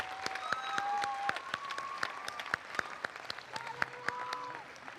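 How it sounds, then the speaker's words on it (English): A crowd applauds live musicians at an outdoor Notre Dame High School San Jose graduation ceremony. Sharp, scattered claps run steadily throughout at moderate distance, with faint sustained tones behind them. "please join me in a round of applause"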